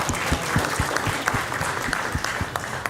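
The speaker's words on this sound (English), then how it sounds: "let's give them a round of applause." An audience at a scholarship and awards ceremony claps in a dense, continuous round of applause, many hands patting at once in a steady patter with no voices standing out.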